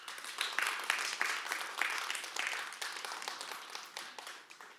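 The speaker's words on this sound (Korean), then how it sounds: "축하하는 의미로 다 같이 박수 부탁드리겠습니다." Online audience applauding ten-year long-service employees at an accounting firm's 50th anniversary ceremony; steady, moderately faint clapping from many hands, continuous and slightly fading toward the end.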